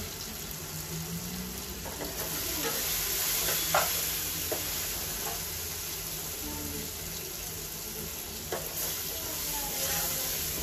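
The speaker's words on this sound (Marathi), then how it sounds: "सगळे मसाले असे छान आपण परतून घेऊया" Spices with a pinch of asafoetida sauté in a pan for an Akkha masoor bhaji, a steady sizzle running throughout with occasional spoon stirs and scrapes, fairly quiet and close.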